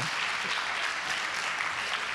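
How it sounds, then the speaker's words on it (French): Sustained applause from an audience at a civic event honoring a municipal councillor, a dense, even wash of clapping throughout with no clear gaps. "on l'applaudit, merci"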